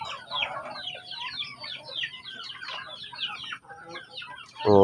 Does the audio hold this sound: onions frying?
no